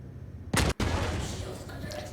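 A single loud gunshot in Star Citizen during an armor ballistic damage test: one sharp broadband crack that cuts off abruptly, followed by a lingering rumbling tail and faint background noise.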